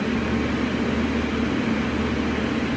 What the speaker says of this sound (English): I'm sorry if you can hear the fan in the background because it's kind of hot where I am